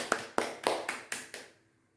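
A short burst of classroom applause for a student named Latifah: six sharp, evenly spaced claps that ring briefly and then fall silent.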